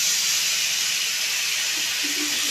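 Vegetables dropped into a hot pan with black pepper and spices, giving a steady, loud broadband sizzle and steam hiss that runs throughout without pause, no talking.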